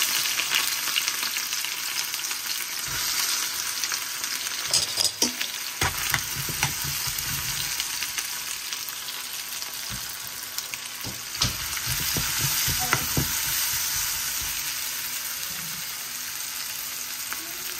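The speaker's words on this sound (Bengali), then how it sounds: "আর এখন ওকরা ভাজি বুয়াই দিলাম" Okra bhaji frying in a pan with garlic, onion and greens, a continuous crackling sizzle with occasional stirring scrapes and clatters, close and steady throughout, no talk.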